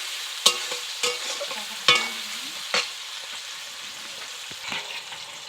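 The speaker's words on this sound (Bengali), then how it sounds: "একটু নাড়াচাড়া করে নেব, পেঁয়াজটা হালকা করে একটু ভেজে নেব।" Chopped tomato and onion fry in a pan, with a soft steady sizzle under several sharp clinks and scrapes of a spoon stirring at irregular intervals.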